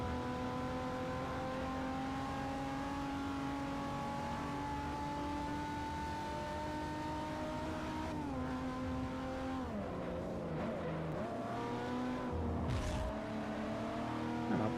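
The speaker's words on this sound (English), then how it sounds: "And now my car is limping along." A damaged race car in Forza runs with a sustained engine drone whose pitch holds steady, then wavers and drops as it slows and strains, loud and continuous with no voice.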